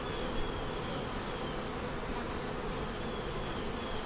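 Honey bees buzz in an open hive while it is checked for brood and queen cells, making a dense, steady drone that holds at an even level throughout with no voices.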